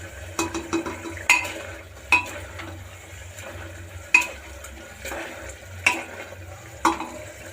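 A masher works whole garlic cloves around a cooking pan, sharp rhythmic clacks and taps against the metal over a faint low sizzle.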